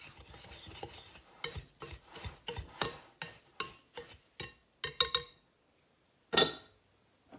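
A spoon stirring a dry homemade instant potato soup mix in a bowl or jar, producing a run of close scraping strokes and clinks that grow sharper and more separated, then a pause and one last loud scrape.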